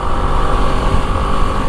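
A BMW G310 GS motorcycle engine runs loud and close during a test ride, holding a steady, dense roar for the whole stretch with no voices over it.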